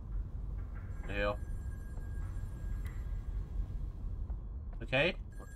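Two separate telephone rings from the video game In Sound Of Mind come several seconds apart, fairly faint over a low background rumble.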